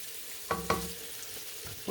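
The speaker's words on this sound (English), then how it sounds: "Our peppers are sauteing nicely" Peppers sautéing in a pan, a soft continuous sizzle with a few stirring clatters of the utensil, close and quiet, with no talk.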